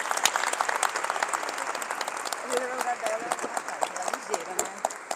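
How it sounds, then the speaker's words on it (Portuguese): An audience at a Brazilian gathering gives sustained applause, dense clapping continuing for several seconds with crowd voices and talk mixed in. "uma salva de palmas aí para o pessoal aí que tá sensacional"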